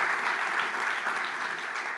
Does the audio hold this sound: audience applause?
yes